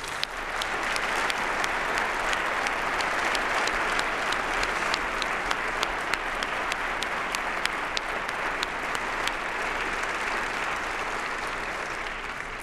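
Sustained audience applause for award winners at a space symposium opening ceremony, a large crowd clapping steadily throughout with a few sharper individual claps standing out.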